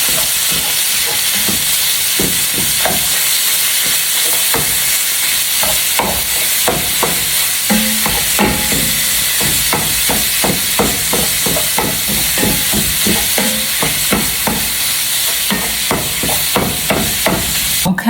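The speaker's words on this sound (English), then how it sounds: "Next thing we're gonna do is spatulate" A spatula repeatedly chops through ground beef cooking in a pan, giving a steady run of sharp, close clacking strikes over a constant sizzling hiss.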